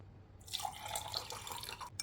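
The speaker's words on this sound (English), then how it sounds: "I'm going to add some of the tea" Tea poured into a cup, a sudden splashing trickle of liquid starting after a brief quiet moment, with bright drips and bubbling that run close and steady before stopping abruptly.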